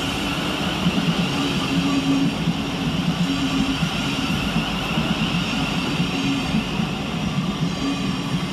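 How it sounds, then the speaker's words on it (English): Class 700 Thameslink electric train pulling into Gravesend station, a steady broadband rumble and hum of wheels and traction that carries on evenly throughout, loud and close, with no voices. "Next up for arrival is 700-030, working the 11:28 Govia Thameslink service of Rainham to Luton"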